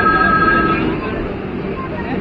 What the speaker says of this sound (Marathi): Vande Bharat superfast train